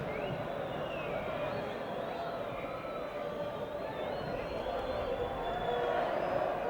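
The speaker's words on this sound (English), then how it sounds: "And the crowd now in happy mood." Steady murmuring football crowd at a 1976 Wales v Austria European Championship qualifier, a broad continuous wash of stadium noise at moderate level throughout, with a commentator's voice faintly woven in.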